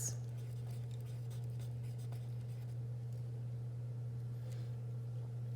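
A pen scratches out numbers on paper in short close strokes, faint over a steady low electrical hum, with no talk.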